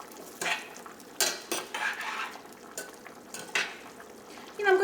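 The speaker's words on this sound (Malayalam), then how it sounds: "ഈ കറി നമുക്കൊന്ന് ഇളക്കിയിട്ട് കൊടുക്കാം." Yam and raw banana erissery curry stirred in a pot, with spoon scrapes and clinks in uneven strokes over a soft bubbling simmer, close and moderately loud, no talking.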